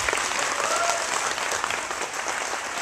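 Audience applause at a concert in Abasha, a dense, steady wash of clapping from a crowd that holds throughout.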